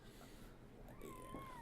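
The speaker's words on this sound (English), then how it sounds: "Meow. Cat disagrees with us." A house cat gives one short, quiet meow with a rising and falling tone over a steady background hiss.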